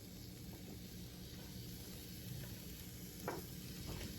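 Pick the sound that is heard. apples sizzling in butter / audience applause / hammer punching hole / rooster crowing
apples sizzling in butter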